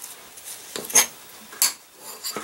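A fork scrapes and clinks against a bowl while stirring jalapeno pepper filling, a few close, bright metallic scrapes and taps spaced irregularly over a soft rubbing background.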